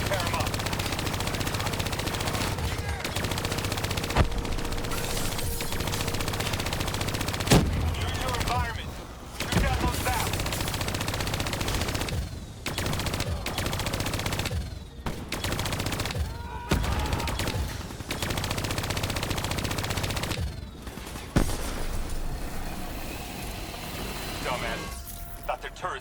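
Rapid automatic turret gunfire in a Call of Duty: Black Ops III campaign battle, sustained bursts broken by brief gaps, loud and close amid explosions and game noise.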